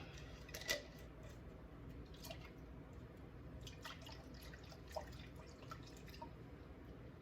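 Sprouting seeds swirled and rinsed in a jar of water, heard as faint sloshing with sparse drips and small clinks over a quiet background.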